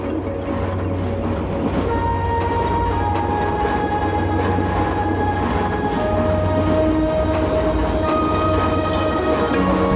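The S1 train runs through rural Vietnam with a steady, continuous rumble and rattle of rolling carriages, alongside faint whining tones, heard from inside at a constant level with no talking.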